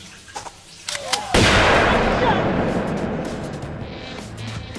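Gunfire bursts out in a movie scene, a sharp blast followed by a long, loud roar of shots and rumble that slowly fades, with a short whistling sound and raised voices just before.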